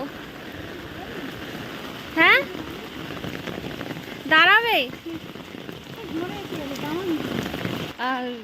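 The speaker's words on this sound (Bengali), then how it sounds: "আবার জোরে বৃষ্টি এলো মা গো" Heavy rain pours steadily, a dense close hiss during an outdoor walk with an umbrella, while people talk briefly over it.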